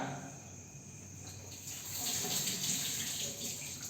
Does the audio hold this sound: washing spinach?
yes